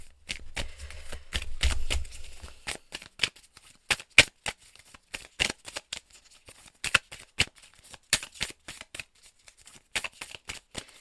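Oracle cards being shuffled by hand, a series of crisp flicking riffles and taps with brief pauses between bursts, close and fairly quiet.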